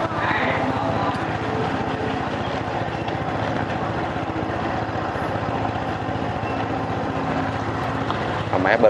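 Boats on a canal in the Phú Xuân area of Nhà Bè, Saigon, with a steady motorboat engine droning and idling throughout, fairly close and continuous under the ambient outdoor noise.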